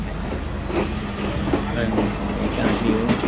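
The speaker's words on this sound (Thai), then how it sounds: "รถไฟออกแล้ว" A second-class passenger train rolls along in Sri Lanka, giving a steady rumbling, rattling ride noise with rhythmic clacks from inside the carriage and faint voices beneath.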